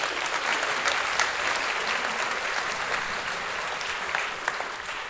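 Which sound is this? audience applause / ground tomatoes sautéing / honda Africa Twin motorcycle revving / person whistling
audience applause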